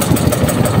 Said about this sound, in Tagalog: maganda na ang kondisyon ng makina natin ngayon.